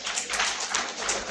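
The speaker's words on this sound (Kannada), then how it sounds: "4 ಜನ ಸಿಕ್ಕರು, ಅವ್ರಿಗೊಂದು ಚಪ್ಪಾಳೆ." An audience at a live Kannada comedy show in Udupi claps together, a dense steady patter of many hands held at an even level throughout without any voices.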